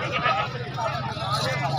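Goats bleating at a goat market amid a crowd, with a sustained wavering bleat over a continuous hubbub of people talking nearby.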